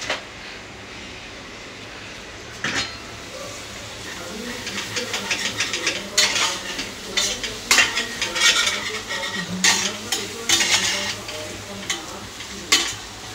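Vegetables for a homemade pizza topping sizzle and fry in a pan over a low gas flame, with a steady hiss broken by repeated close scrapes and clatters of a spatula stirring against the metal; a voice can be heard faintly in the background.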